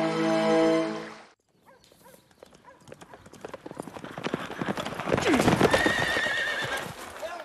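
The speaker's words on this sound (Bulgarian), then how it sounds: "конят ми побягна, не можах да го спра" A horse bolting through stables with loud, quickening hoof clatter and a shrill whinny late on, after an opening burst of shouting; rushing, close and chaotic.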